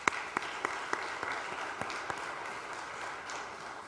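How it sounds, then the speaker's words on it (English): A church congregation applauds, a soft, steady wash of distant clapping with a few sharper individual claps over about four seconds and no speech. "Can we actually have a round of applause for Mr."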